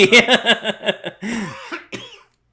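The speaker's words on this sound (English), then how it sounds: "I coughed" A rapid string of close, harsh coughs, followed by a strained throaty sound and one last short cough before silence.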